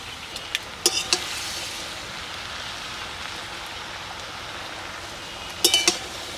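Bottle gourd greens with salt sizzling in a pan, a steady soft frying hiss throughout, with a few sharp scrapes of stirring near the start and again near the end.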